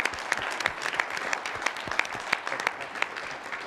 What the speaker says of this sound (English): So let's give our panelists a round of applause.